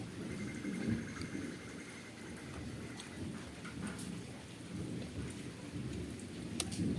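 Steady rain falls with low rolling thunder during a morning downpour, a constant soft hiss with deep rumbles underneath and occasional sharper drips, heard alone without voices.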